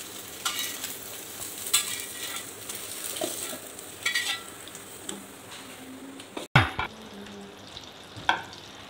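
Paneer fries in oil and butter in a kadai, giving a soft continuous sizzle with light stirring scrapes and small taps of a spoon against the pan, close and fairly quiet, without talk.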